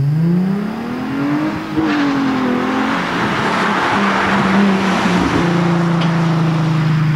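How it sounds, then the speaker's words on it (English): A 2008 Nissan 350Z engine revving and pulling through gears, a loud, close drone that climbs, dips at a shift and climbs again before settling into a steady higher hum, with no talk. "This is the 2008 Nissan 350Z."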